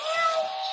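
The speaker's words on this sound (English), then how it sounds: "And we got the ugly cat over here." A cat lets out a single short, close meow, clear and alone.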